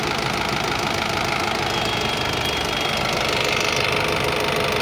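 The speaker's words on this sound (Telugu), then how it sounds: "ఒకసారి బండి స్టార్ట్ చేస్తాం చూడండి. బండి స్టార్ట్ చేసాం." A 2019 Honda WR-V VX idles steadily after starting, a continuous close mid-pitched engine hum with a faint knocking texture and no talk over it.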